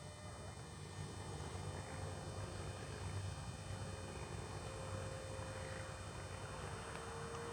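An FMS 1500mm Cessna Skylane 182 RC plane flies at a distance with a faint, steady electric motor drone. Breezy outdoor noise sits underneath it.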